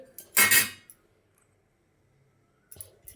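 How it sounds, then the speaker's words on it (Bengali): An egg is cracked open while cooking chili chicken, a single short sharp crack with a brief rattle, followed by near silence and a faint scrape at the end. "আমি ফাটিয়ে দিচ্ছি ডিমটা"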